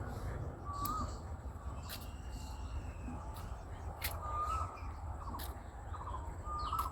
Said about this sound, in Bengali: পাখির ডাক কিচিরমিচির শুনতে পাচ্ছেন আপনারা